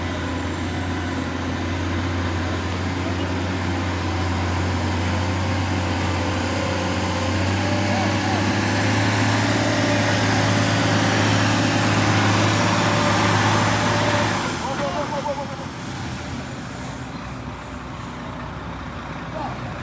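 A UD Quester truck strains up a steep hill, its heavy diesel engine droning steadily and loudly with a low hum, then easing and dropping in tone near the end.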